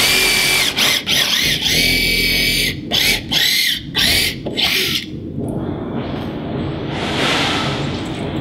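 A power drill with a step bit widens a hole in plastic to half an inch, whining loudly in several short bursts before a quieter, rougher tail.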